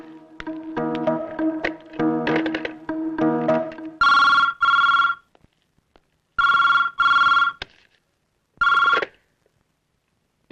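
A telephone first gives a series of busy electronic tones, then rings in loud, near double bursts separated by silent pauses.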